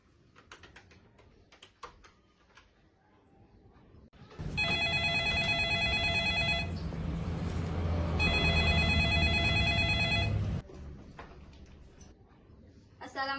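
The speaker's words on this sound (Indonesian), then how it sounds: "Sebaiknya kita telepon Bung Karno terlebih dahulu." A telephone rings in a school drama about the Rengasdengklok event, two long bursts of bright electronic trilling in the middle, with a short pause between them and people talking before and after.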